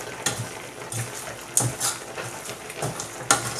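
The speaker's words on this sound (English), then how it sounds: "I stir it very well so that the pepper and the onion will enter" A spoon scrapes and stirs turkey pepper soup with pepper and onion in a pot, repeated sharp clinks and scraping strokes over a soft sizzling background, close and steady.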